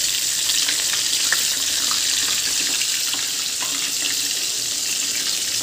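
Prawn masala egg balls frying in hot oil give off a steady, loud hiss and bubbling sizzle that holds evenly throughout, with no talking.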